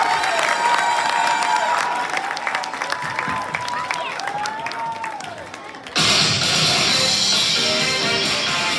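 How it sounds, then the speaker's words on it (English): An audience claps for group 7 at a Jain pathasala presentation. Music with tonal swoops fades at first, then loud, close, sustained applause starts abruptly about six seconds in and continues to the end. "big applause for group 7"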